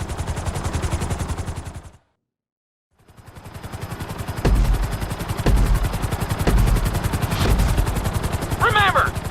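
In the GTA V flight school, a helicopter's rotor chops fast and steady, with one abrupt silence of about a second. Heavy thumps and a short synthetic chirp come in later over the same dense, loud drone.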